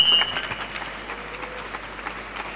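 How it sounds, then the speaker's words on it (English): Audience applause after a speaker introduction at a tech conference talk on mediated reality, a steady moderate wash of clapping from a hall crowd, heard alone without talk. "Please give a warm applause for Jan"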